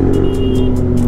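A loud Kawasaki Ninja ZX-10R fitted with an Arrow exhaust roars close by in a steady, throaty drone, with a brief rising whoosh over the engine note.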